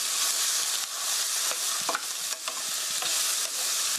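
Onion and garlic stir-fry over medium heat for tofu stew, a loud steady sizzle broken by repeated spatula scrapes and taps against the pan.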